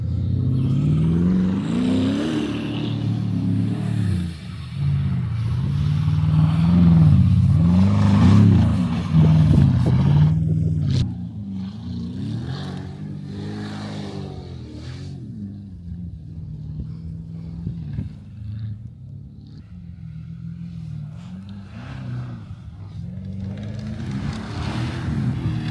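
Engines of a Range Rover and a Porsche Cayenne roar loudly as they accelerate and race through a sand quarry, a heavy revving drone that swells and then settles into a steadier, slightly quieter run.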